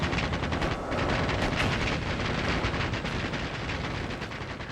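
Dense machine-gun fire pours from German machine-gun nests on the 1918 Western Front, a loud, continuous, rapid crackle of many guns firing together, filling the whole stretch without pause.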